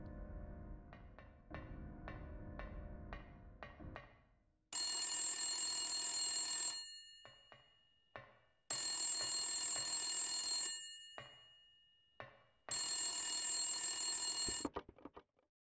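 A telephone rings in the video game Silent Hill: three long, loud, piercing rings separated by quiet gaps, after a run of faint clicking footsteps, with no talk.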